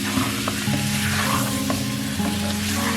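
Chicken white karahi stirred and frying in a pan, a steady loud sizzle with scraping stir strokes running throughout, close and continuous.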